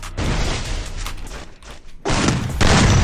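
Loud gunfire and booming blasts from a video game played on a cheap PC fill the space, bursting in heavy waves with a brief dip in the middle.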